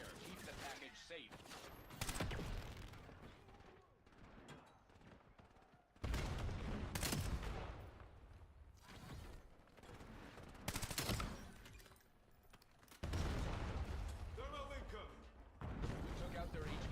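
Gunfire in Black Ops 7, bursts of automatic fire and heavy shots that recur in clusters every few seconds, loud and close, while people talk in the background throughout.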